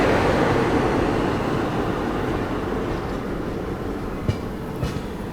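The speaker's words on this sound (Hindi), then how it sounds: "चलिए निकल गई अपनी ट्रेन।" A passing express train in India rumbles and roars steadily as heard from aboard another train, with broad loud noise throughout and a few faint clicks near the end.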